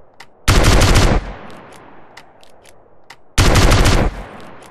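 Gunfire in GTA San Andreas: two loud, close bursts of rapid automatic fire, each under a second long, separated by a short lull with faint ambient ticks.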